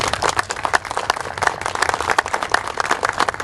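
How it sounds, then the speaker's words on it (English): Applause from an audience at a Port of Kennewick boat launch gathering, a lively burst of many hands clapping with distinct individual claps, sustained and fairly loud throughout. "can you give them a round of applause?"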